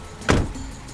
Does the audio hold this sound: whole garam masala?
no